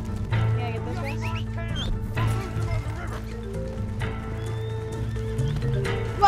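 In the Western game Red Dead Online, horses whinny and snort while hooves clip-clop nearby, with repeated neighs rising over steady hoofbeats and brief game ambience.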